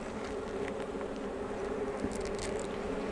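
Honey bees fanning in a queenless nuc hive make a continuous close buzzing drone, steady and unbroken, with brief faint higher whines from individual bees passing near.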